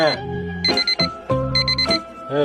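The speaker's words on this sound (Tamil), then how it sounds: "திருப்பி அலாரம் அடிக்குது" An alarm clock rings loudly and close on a cold winter morning, a melodic electronic tone that repeats its pattern in short bursts with brief gaps between them.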